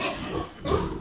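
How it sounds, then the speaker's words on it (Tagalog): A farm pig grunts and oinks close by in two short bursts, alone with no talk over it. "baboy natin."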